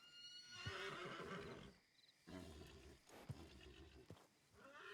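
A horse named Galahad in a video game gives a long, loud, close neigh with wavering pitch, then a pause and a second whinny, with faint hoof clip-clop underneath.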